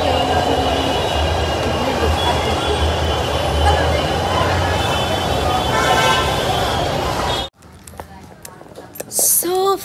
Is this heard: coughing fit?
no